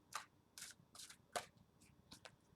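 Tarot cards being shuffled by hand, close and quiet: a series of short, crisp riffling bursts in an uneven rhythm, about six or seven in quick succession with brief gaps.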